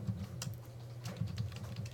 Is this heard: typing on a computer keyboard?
yes